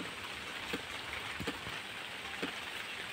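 Morning rain falls in a village, a soft, steady patter on surfaces with a few louder drips standing out, faint and continuous throughout.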